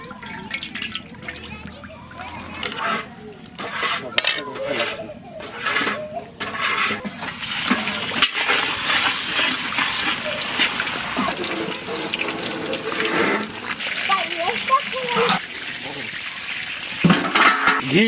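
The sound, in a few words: frying in sunflower oil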